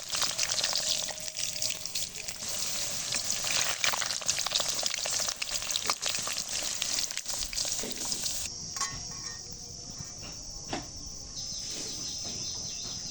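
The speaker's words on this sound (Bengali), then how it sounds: "একই তেলে চিকেনগুলো ভেজে নেব।" Chicken pieces fry in hot oil already used for potatoes, giving a loud close crackling sizzle that runs steadily and then drops to a softer hiss partway through, with occasional light clinks.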